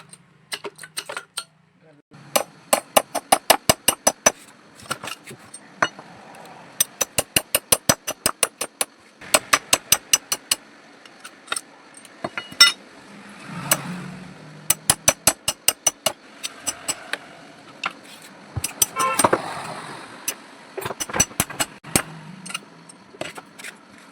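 Motor winding coils and stakes hammered out of stator slots, sharp metallic blows in fast bursts of repeated strikes separated by pauses, close and loud, with someone talking in between.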